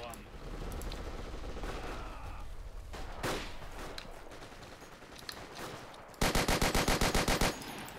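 A captured MG34 machine gun fires in the World War II multiplayer shooter Forgotten Hope 2 during a harbor fight. A single rapid, loud burst of about a dozen rounds comes near the end, after a stretch of mixed battle noise.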